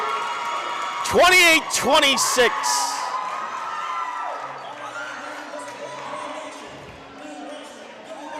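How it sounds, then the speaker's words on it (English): Fans erupt in loud whoops and cheers at a girls' varsity high school basketball game against Nauset, peaking sharply and then settling into a noisy gym murmur while an announcer talks. "The crowd goes wild."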